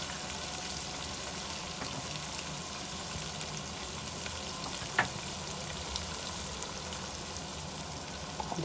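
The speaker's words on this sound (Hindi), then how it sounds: "प्याज फ्राई हो गई है, अब हम प्याज डाल देते हैं।" Onion, ginger and garlic fry in a pan with a steady, close sizzle and crackle, and a faint stir or clink partway through.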